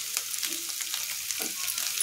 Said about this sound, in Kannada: ಬೆಳ್ಳುಳ್ಳಿ ಏನೋ ಕುಟ್ಟಿಟ್ಕೊಂಡಿನಂದ್ರೆ 7 ಎಸಳು ತೊಗೊಂಡಿನಲ್ಲ, ಇದನ್ನು ಹಾಕ್ಕೊತೀನಿ